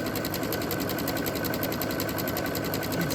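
A sewing machine runs continuously through zig-zag and satin stitching, a steady fast rhythmic whirring and clatter held at an even, close level throughout.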